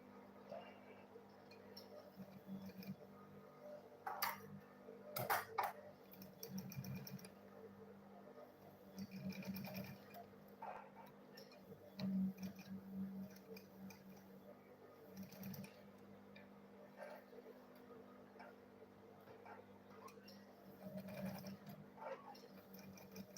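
A sewing machine stitches a folded seam on a fabric school bag, its quiet motor running in short and longer bursts with brief pauses, at modest level in a calm indoor setting.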